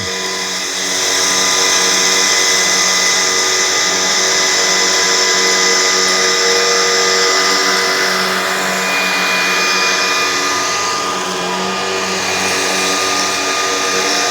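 A Shark Vertex Pro or Pet Essentials vacuum cleaner runs steadily at max suction on carpet, a loud close whine with a constant motor drone.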